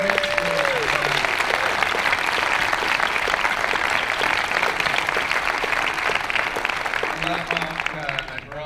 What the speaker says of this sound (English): can we give a big round of applause to Mark?